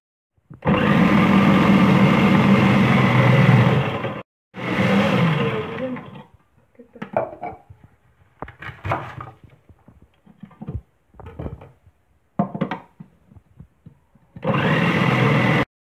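A food processor shreds cabbage and carrot in loud whirring bursts: two long runs of several seconds each, then quieter clatter and short scraping sounds, and a final burst of motor whir at the end.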